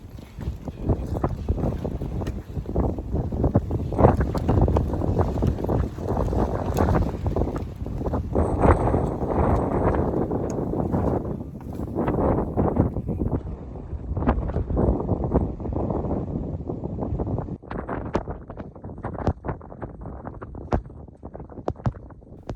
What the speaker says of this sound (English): The closer you get to the top, the more you are exposed to the wind.